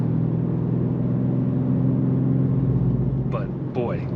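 A 2024 BMW M3 with a six-speed manual and a turbocharged engine drones steadily as it accelerates, the engine note held loud and close, with a voice coming in briefly near the end.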